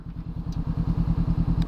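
Motorcycle engine running without a dB killer exhaust baffle, a loud, close, steady pulsing exhaust throb with rhythmic low thumps throughout.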